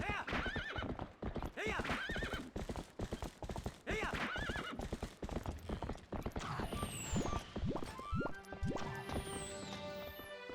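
Horse in Zelda: Twilight Princess, with rapid clip-clop hooves galloping throughout, a whinny early on, then mechanical creaks and game effects near the end, fairly quiet overall.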